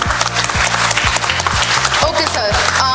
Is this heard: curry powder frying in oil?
no